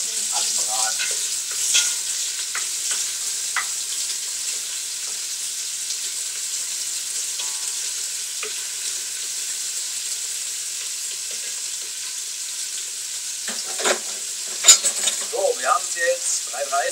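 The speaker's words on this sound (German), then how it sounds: "Zwei bis drei Minuten anbraten." Beef searing in a pan of oil and butter gives a continuous loud sizzle with scraping stirs. Sharper crackles and a brief voice come through near the end.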